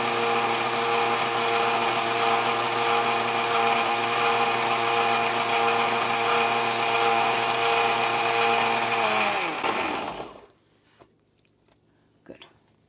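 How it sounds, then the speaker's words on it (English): Steady high-pitched electric grinder whirring through a cumin seed paste for Pesaha appam, loud and close for about ten seconds before winding down to near silence with a faint knock. "I see a little bit of cumin seed, so let me grind one more time."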